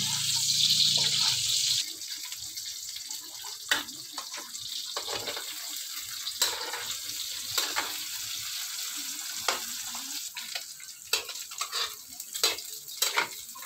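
Hotdogs frying in a hot pan, with a loud sizzle at first that settles into steady crackling and occasional stirring scrapes, while people talk nearby.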